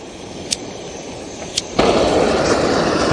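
A Primus OmniLite Ti camping stove burner is lit and settles into a steady broadband roar, after a couple of short clicks or pops from ignition, holding loud and close to the end.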